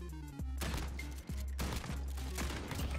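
Rapid bursts of gunfire in Call of Duty: Modern Warfare Gun Game mode, several loud close volleys with brief gaps between them, no talking.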